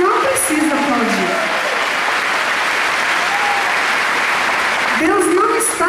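A church congregation applauding at a Portuguese-language sermon, with dense, steady clapping that fills the whole stretch and swells again near the end, with voices mixed in.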